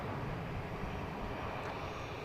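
Boeing 737-700 airliner on flight 57 to Houston Hobby at Dallas Love Field, a steady broadband jet roar holding at constant level throughout, no voices.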